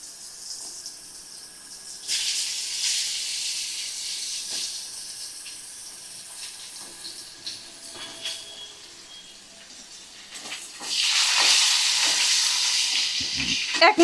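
Thin-sliced carrots going into a hot pan for a vegetable fish curry set off a soft hiss that swells, dips, then surges louder near the end, with light scraping in between.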